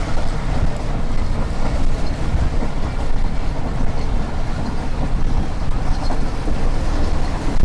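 The Millat Express passenger train runs along the rails between Lodhra and Chak Jhumra junctions, a steady, dense low rumble and wind roar heard from on board.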